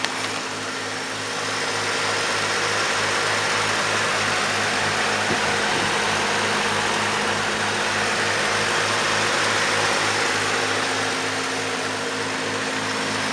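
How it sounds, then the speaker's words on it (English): A 1951 Chevrolet pickup's rebuilt 235 engine running, a loud, steady, even idle with a constant low drone that continues throughout, no talk. "Motor was rebuilt. You can hear it."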